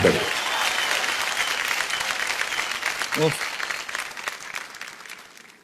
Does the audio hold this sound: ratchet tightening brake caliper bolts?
no